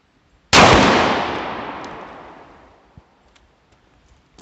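A Hatfield SAS semi-automatic shotgun fires a single 3-inch magnum turkey load: one loud, sharp blast close by with a long rolling decay, followed by a faint click or knock a few seconds later.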